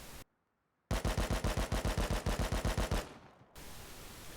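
Full-auto rifle spray in the survival game Rust, a single burst of about fifteen rapid, evenly spaced loud shots after a short silence, then fading game ambience.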